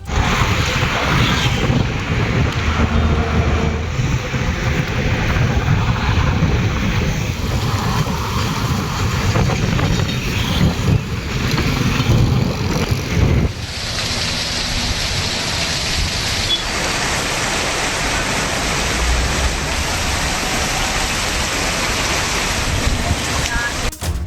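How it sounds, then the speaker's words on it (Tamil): Heavy rain pours in Chennai during strong gale-force winds, making a dense, steady hiss. The tone of the downpour shifts partway through, and gusts rush over the microphone. "சூறாவளி காற்றுடன் கூடிய கனமழை கொட்டி தீர்த்தது"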